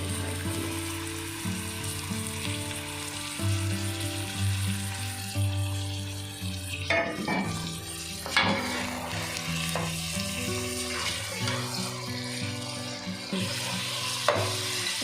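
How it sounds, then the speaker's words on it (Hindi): Beef frying with onions in a pot for biryani gives a steady, close sizzle throughout, with scraping and stirring clatter breaking in over the second half. "गोश्त डाल के फ्राई कर लें।"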